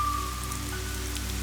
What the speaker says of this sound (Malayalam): നമ്മൾ അകത്ത് കയറിയപ്പോ സമ്മതം അറിയിച്ചു വന്ന മഴ